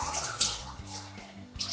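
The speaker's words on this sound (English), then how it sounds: "You hear the water running." Tap water runs steadily in a home kitchen while tomatoes are prepared for canning ketchup, a close, continuous splashing rush with small irregular spatters and faint low background sounds.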